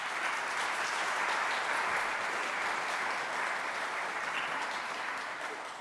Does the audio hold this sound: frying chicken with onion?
no